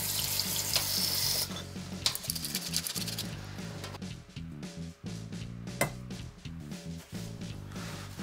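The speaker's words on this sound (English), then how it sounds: "run the prawns under cold running water to rinse off the salt and cornstarch" Cold tap water runs steadily into a kitchen sink as raw prawns are rinsed of salt and cornstarch, a continuous splashing flow with light knocks and handling sounds.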